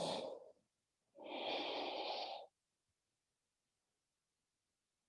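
Two slow, audible breaths during a yoga flow, a short exhale followed by a longer, fuller breath lasting about a second, close and clear, with silence afterward.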